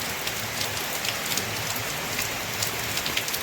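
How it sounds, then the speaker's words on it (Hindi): Heavy rain pours steadily in north Bihar's Mithila region, a dense, loud continuous hiss of drops on surfaces with no wind or voices. "तो हवा तो नहीं है लेकिन बारिश तेज़ है।"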